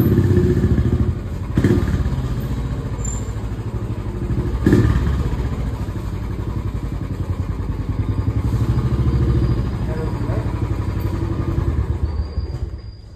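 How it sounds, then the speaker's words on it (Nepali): A motorcycle engine runs close by on arrival at a shopping mall, a steady mid-pitched drone with occasional clattering thumps throughout and no voices. "बाइकको आवाज चाहिँ छ है"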